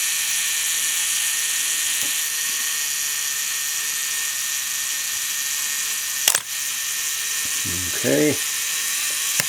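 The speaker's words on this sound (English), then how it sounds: "We can do the self timer by pulling that down, and there's a little button right here that we press instead of the shutter button to activate the timer." Self-timer of a Minolta SRT-101 35mm film camera running its cycle, a steady faint mechanical whir followed by a sharp shutter click near the end and a brief ratcheting sound, with a short spoken word.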